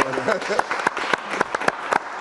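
Applause from a TV talk-show studio audience, rapid sharp claps rising and falling over a couple of seconds, mixed with voices talking and laughing.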